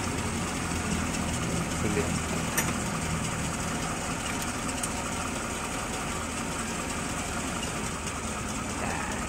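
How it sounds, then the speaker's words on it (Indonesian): A warmed-up Suzuki Katana motorcycle engine idles steadily during ignition timing adjustment, a continuous close-up putter with a light, even ticking rhythm and no change in pace. "mesinnya sudah panas guys. Nih kita perhatikan ya suaranya seperti sini."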